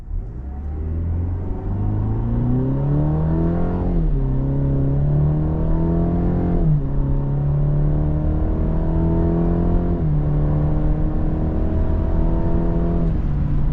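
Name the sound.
2023 Cadillac CT5 2-liter turbo accelerating, paddle-shifted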